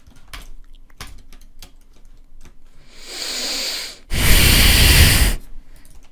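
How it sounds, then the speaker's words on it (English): Loud, close breathing straight into a microphone during Roblox paintball: a few sharp snorting breaths, then a long hissing exhale, followed by a louder, harsher burst of breath before quieter breaths resume. "I hope you felt that in my extensively loud breathing"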